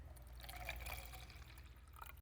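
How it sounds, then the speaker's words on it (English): Water pouring into a jar to be mixed with paint for a thrifted oak table, a steady close trickle and splash running for about two seconds without talk. "Now we're gonna fill it with water."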